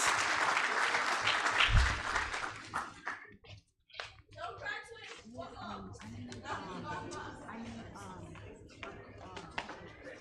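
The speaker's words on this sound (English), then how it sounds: "Let's give them a round of applause." Applause breaks out at a class of 2024 graduation ceremony for athletic award presenters, starting with a loud burst and a sharp clap, then thinning into scattered clapping under murmured talk nearby.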